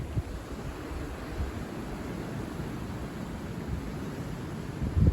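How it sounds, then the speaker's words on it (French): A southwest gale tied to Storm Eowyn, January 2025, blows as a faint, steady broadband rush with low rumbling buffets, rising slightly at the very end, no voices present. "là on a le vent de sud-ouest qui remonte"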